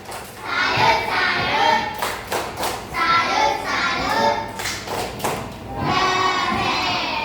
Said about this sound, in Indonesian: Kasih dulu tepuk salut untuk Putra.